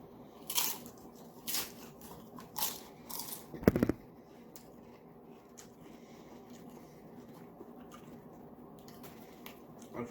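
Close chewing and crunching of a home-cooked Canada goose meal, with a few wet bites and squishy crunches in the first four seconds, then quiet, faint mouth sounds.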